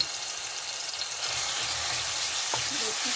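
Steady sizzling and hissing of ginger-garlic paste frying in hot oil, growing a little louder partway through, with faint stirring clicks.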